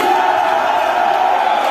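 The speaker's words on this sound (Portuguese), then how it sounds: "A torcida começou a cantar mais ainda, começou a pressionar o time do Betstar lá." Fans in the stands at a Brazilian futsal league match, Visão against Betstar, chant and cheer in a loud, sustained roar with a steady sung tone running through it.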